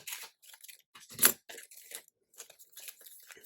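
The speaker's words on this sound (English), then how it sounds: "this time you will only need to cut one side. Cut along like" Scissors snipping through a flimsy magazine page, a few quiet, close crisp cuts and paper rustles spread in short bursts with gaps between them, no talking.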